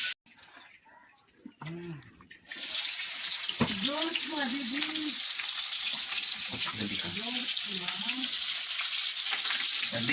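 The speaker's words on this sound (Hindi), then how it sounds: "अभी फिलहाल अंडे का तलाई कर रहे हैं" Eggs frying on a clay stove, a loud steady sizzle that starts abruptly and carries on throughout, with voices talking over it and a brief tap-like clatter before the sizzle begins.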